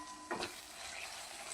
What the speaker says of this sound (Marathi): तर हा मसाला याच्यामध्ये आपण फ्राय करून घेऊया